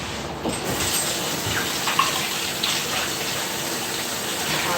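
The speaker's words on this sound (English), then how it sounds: "Hot boiling water." Hot boiling water pours steadily into a pot or bowl during home cooking of pork trotters and buns, a continuous splashing gush lasting the whole moment at close range.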